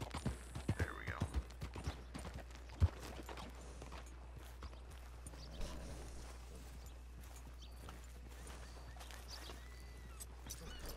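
A horse's hooves clip-clop on the ground in Red Dead Online near a hitching post in Blackwater, faint, irregular steps over a low steady hum, with a few sharper knocks early on.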